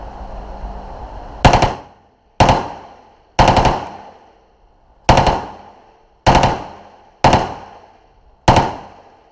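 At a US shooting range an automatic gun fires seven loud, close bursts spaced about a second apart, each a sharp rapid crack followed by a decaying echo and brief silence.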